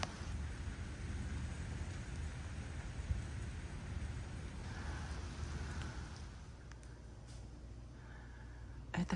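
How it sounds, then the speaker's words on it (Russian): Steady rain falling outdoors under a clear, bright sky during hot weather, a continuous dense hiss of drops on surfaces that stays even throughout, with a slight lull near the end and no talking. "Небо светло, чисто, и дождь идет."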